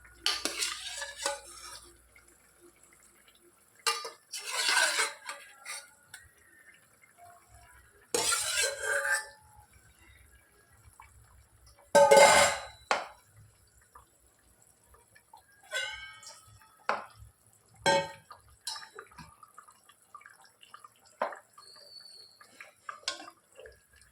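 Fish pieces added to a tamarind fish gravy in a pot, with scattered bursts of wet splashing, scraping and clinking of a utensil against the pot, separated by quiet gaps, close and without speech.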